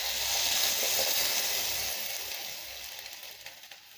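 Cooked, mashed dal for bitter gourd sambar pours into a hot pan, a loud steamy hiss and sizzle up close that gradually fades and settles into softer bubbling.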